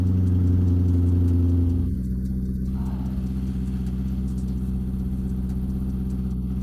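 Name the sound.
cold start of an American supercar engine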